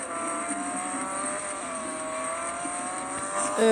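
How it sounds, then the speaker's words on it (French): A Ford Focus races on its final lap in the Real Racing 3 mobile game, its engine holding a steady, loud droning whine with a brief rise at the end, no voices over it. "montrons notre vitesse, cher Ford Focus. Dernier tour."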